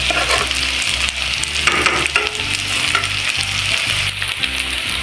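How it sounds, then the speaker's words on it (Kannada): Paneer pepper fry sizzling in a pan, loud and close, a dense constant crackle of frying with rhythmic scraping of a spatula stirring through it and a low hum underneath. "ಇವಾಗ ಕ್ಲೀನಾಗಿ ಫ್ರೈ ಆಗ್ತಾ ಇದೆ"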